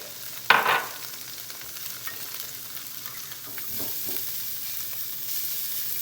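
Sun-dried tomatoes and garlic hit a hot pan with a sharp sizzle, followed by a steady, fairly quiet frying hiss with occasional stirring sounds and no talking.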